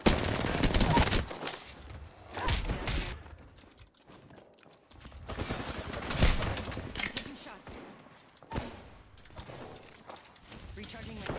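Gunfire in the Apex Legends video game comes in scattered bursts and single shots amid other game sounds, moderately loud, with a player talking over parts of it.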